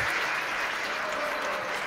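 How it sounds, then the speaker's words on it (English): Steady, fairly loud audience applause at a conference lecture, a dense continuous wash of clapping with no gaps. "here's Cheers, your applause."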